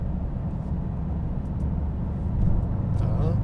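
A 2024 Bentley Continental GT accelerating in sport mode, heard from inside as a steady low engine and road drone that swells slightly toward the end, with no clear talk.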